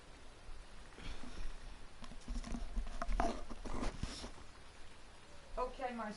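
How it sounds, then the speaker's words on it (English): Rain falls outdoors as a faint, irregular patter of drops, with soft indistinct voices murmuring underneath. "It's raining"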